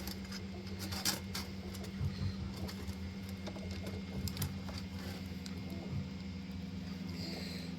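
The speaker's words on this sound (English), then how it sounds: "heard a funny noise from the printer over there." A machine hums steadily with a low drone, overlaid by irregular clicking and whirring ticks from a nearby Ender 3 V2 Neo 3D printer making a funny noise, with no voices.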